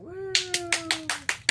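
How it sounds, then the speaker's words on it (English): A small group claps for a boy named James at home, about seven crisp, evenly spaced claps that start right after a short sung or hummed tone fades out. "Everybody clap for James."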